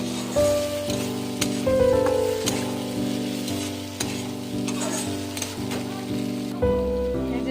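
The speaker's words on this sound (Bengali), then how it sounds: "একটু তেলের মধ্যে শুটকি মাছটা আমি একটু হালকা ভেজে নিচ্ছি।" Bhola dried fish fries lightly in a little oil, giving a steady crackling sizzle with intermittent stirring clatter and utensil knocks throughout.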